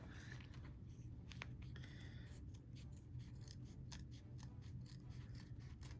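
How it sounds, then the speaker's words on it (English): Scissors snip fabric in a quilting and machine-embroidery project, a quiet run of crisp cutting clicks over a low steady hum, no voices. "Let me get a different pair of scissors."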